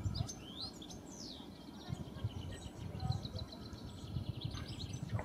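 Goldfinch singing in spring in the Kennemerduinen coastal dunes, a babbling song laced with high twittering notes, faint and somewhat distant over a low steady rumble.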